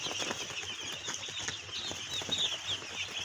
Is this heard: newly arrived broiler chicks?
yes